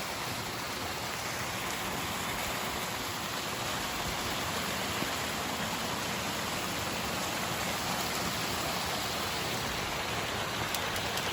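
A small trickling waterfall on the Gunpowder River Railroad Trail runs at low flow, giving a steady, even wash of splashing water with no talk.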